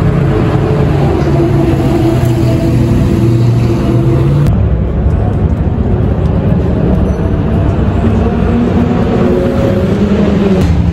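Sports car engines at the Le Mans circuit, such as a Ferrari 458 Speciale and Porsche Cayman GT4 RS, roar steadily and loudly for about eleven seconds with a low droning tone, shifting character midway as one car passes.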